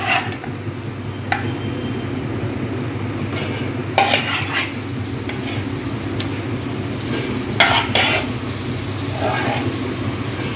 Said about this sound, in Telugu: ఇప్పుడు చికెన్ వేస్తున్నాను చూడండి